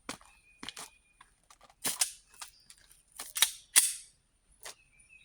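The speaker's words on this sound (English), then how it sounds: "I've got 6 rounds of Underwood 125 grain hollow points. And I'm just going to blow them down range." A .357 SIG pistol fires Underwood 125-grain hollow-point rounds downrange on an outdoor range, a handful of sharp, loud reports spaced irregularly over several seconds with brief quiet between.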